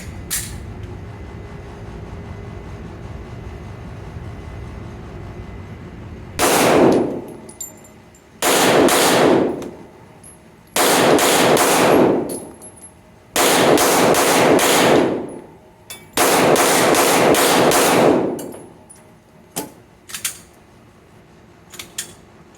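Pistol fire on an indoor range at a target, loud and close, in five clusters of sharp reports that ring heavily in the enclosed space, with quiet gaps between strings.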